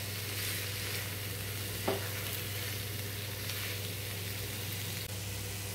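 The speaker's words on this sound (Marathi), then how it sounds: "हे छान आता परतून घेते मी।" Soya chunks sautéed in hot oil in a pan, a steady close sizzle with a low hum beneath and a single scrape of stirring partway through, no voices.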